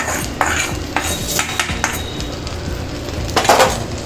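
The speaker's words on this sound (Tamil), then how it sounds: "முட்டையை சேர்த்ததுக்கு அப்புறமா இதையும் நல்லா கிளறி விட்டுறணும்" Egg being stirred into vegetables in a pan for egg noodles, with a spoon scraping and clattering against the pan in a steady run of close, fairly loud strokes over a faint sizzle.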